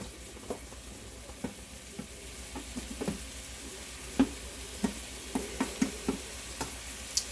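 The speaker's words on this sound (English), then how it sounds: "Let a little bit of that oil go down there to those burgers on that side of the pan." Turkey burgers sizzle in oil in a tilted pan, a steady soft frying hiss punctuated by scattered crackles and pops that grow more frequent toward the end, close and quiet with no talking.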